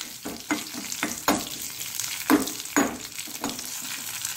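A tempering of red chilli sizzling in hot oil for a Mangalorean ladies finger sambar, crackling and frying close up while a spoon stirs in several short scraping strokes.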